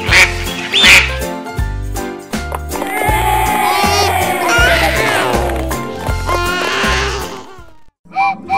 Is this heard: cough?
no